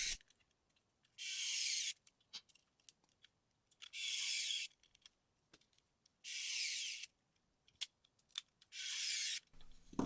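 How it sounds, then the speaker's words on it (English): Screws being driven in to hold a small circuit board, four separate bursts of bright, rasping grinding about two seconds apart, with faint clicks and handling noises between them in a quiet room. "I screw them in until they almost touch the board"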